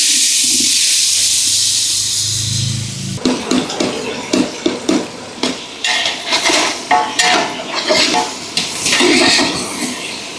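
Tomatoes drop into a hot pan of fried pieces for Ambur-style biryani, a steady loud hiss at first giving way to repeated clanking and scraping of a utensil stirring against the pan, with the sizzle continuing underneath.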